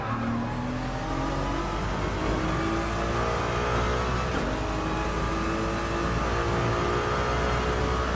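A race car engine in a racing video game, heard from the cockpit view, roars loudly and steadily, rising in pitch as it accelerates, dipping briefly at a gear change, then climbing again.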